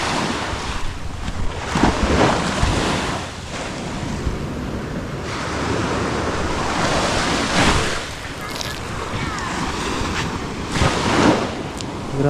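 Sea water washes near the shore in a steady roar of surf mixed with heavy wind buffeting the microphone, loud and continuous, with faint voices in the background.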